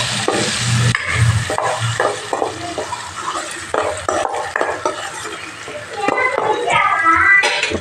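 Tomato and onion paste frying in oil in a pan while being stirred, with a soft sizzle and scraping of the spoon against the pot, and a voice talking over it.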